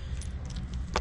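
Metal keys jangle briefly at the keyed lock of a 48V 15Ah downtube battery on a Himiway Zebra e-bike, a few light clinks ending in a sharper rattle close to the mic.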